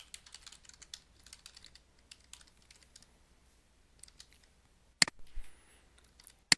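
Computer keyboard being typed on to enter a user ID and password, quiet close key clicks in irregular bursts, then a sharper cluster of louder clicks near the end.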